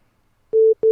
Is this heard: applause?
no